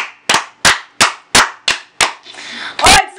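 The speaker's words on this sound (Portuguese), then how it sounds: "8 salvas de palmas!" Six sharp hand claps in a steady, quick rhythm close by, then a brief burst of noise and one more loud clap at the end.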